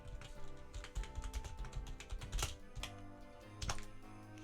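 Rapid, uneven clatter of computer keyboard keys, a burst of quick clicks with a few heavier taps, close and fairly quiet over faint background music.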